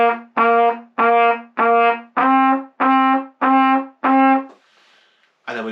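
The middle section of Hot Cross Buns is played as eight short, evenly spaced melodic notes: four Cs followed by four slightly higher Ds, clear and alone, with a brief pause and one more note starting at the end.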